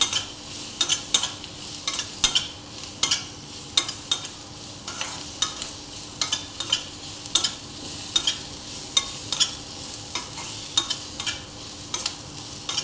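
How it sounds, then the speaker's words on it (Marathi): Onion, garlic, coconut and tomato sauté in a pan under a continuous sizzle, with a spoon scraping in a steady repeated stirring rhythm, close and without talk. "कांदा, लसूण, खोबरं, टॅमॅटो चांगलं परतून घेऊया आपण."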